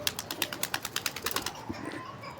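Pigeons on a rooftop beat their wings in a quick, rhythmic burst of soft flaps at close range, then settle into lighter rustling with no speech.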